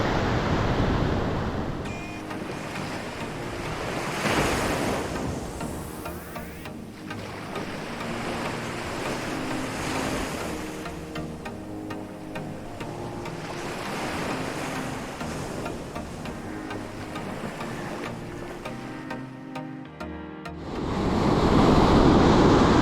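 Ocean surf rolls onto a San Diego beach, a continuous broad wash of breaking waves with wind buffeting the microphone, swelling louder toward the end.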